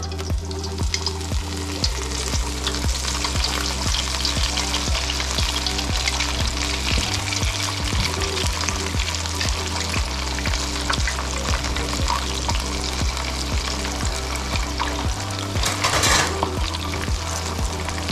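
Red rock cod frying in a pan, a steady dense sizzle and crackle throughout with occasional soft scraping and stirring, close and loud, with no talk.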